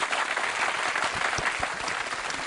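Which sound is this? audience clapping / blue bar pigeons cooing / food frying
audience clapping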